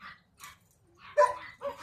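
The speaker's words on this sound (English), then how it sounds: "I don't know if you can hear me or not because of the dogs" Dogs on a farm bark and yip in short separate bursts, several sharp close barks with quiet gaps between.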